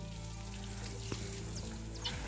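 Water from a hose splashes steadily while horses are bathed, a continuous wash of spray with a low background hum and a couple of brief knocks.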